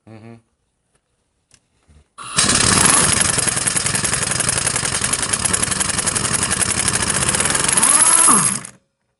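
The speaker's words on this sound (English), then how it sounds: "Now let's hope we got enough in the compressor to get this off." A compressor-driven air impact tool works at a part on a 1952 Harley-Davidson Panhead, a loud continuous hammering whirr running about six seconds after brief sounds, then cutting off.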